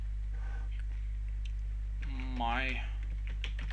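Keys on a computer keyboard click in short, sparse bursts over a steady electrical hum while someone speaks briefly.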